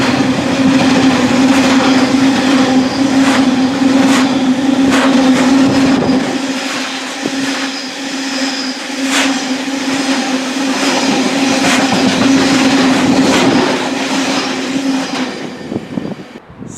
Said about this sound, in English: we did get that freight train, that Conus Rail Freight Class 70